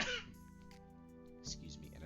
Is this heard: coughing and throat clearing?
yes